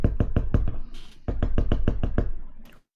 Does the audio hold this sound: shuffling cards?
no